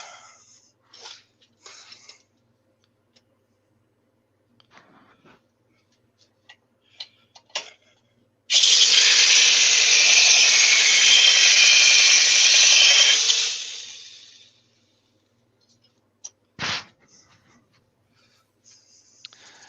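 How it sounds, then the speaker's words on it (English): Woodworking gouge sharpened on a Pro Edge sharpening machine, a loud steady grinding whir lasting about five seconds, set between faint scattered ticks and knocks in an otherwise quiet room. "just got to sharpen this gouge"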